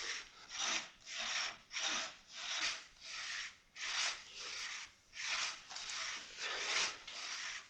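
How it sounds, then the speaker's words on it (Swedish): A hand saw cuts into a tree trunk outdoors in a steady back-and-forth rhythm, about a dozen rasping strokes close by and fairly loud, with no talk over them. "är det mitt träd de tänker såga ner?"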